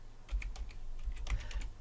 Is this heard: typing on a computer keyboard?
yes